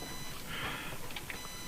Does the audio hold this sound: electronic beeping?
yes